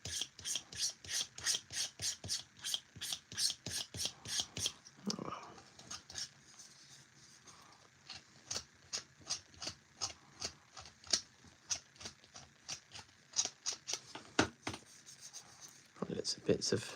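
Filing or scraping a model railway part on a shunting layout, a rapid rhythmic rasping of short repeated strokes, close and fairly quiet, with a voice talking at times.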